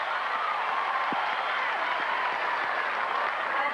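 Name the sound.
tennis crowd cheering and applauding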